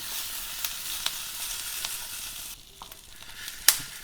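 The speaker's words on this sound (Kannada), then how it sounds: "ಇದಕ್ಕೆ ಶುಂಠಿ ಬೆಳ್ಳುಳ್ಳಿ ಹಾಕ್ಬಿಡಿ. ಆಮೇಲೆ ಸ್ವಲ್ಪ ಕಾಯಿ ತೋರಿಸೋದಲ್ಲ ಅದು ಹಾಕ್ಬಿಡಿ. ಹಾಕ್ಬಿಟ್ಟು ಲೈಟಾಗೆ ಫ್ರೈ ಮಾಡ್ಕೊಳ್ಳಿ." Ginger, garlic and grated coconut fry lightly in a pan for chicken sambar, a close, continuous crackling sizzle with soft stirring ticks that thins out briefly near the end before one sharp scrape.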